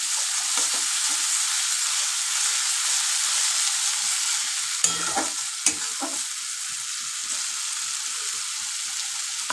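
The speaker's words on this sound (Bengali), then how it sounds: "এটাকে এবার আবার কষাবো।" Tomato paste stir-fried in a pan for tangra fish curry, a loud continuous sizzle with soft spatula scrapes and a couple of sharp clinks.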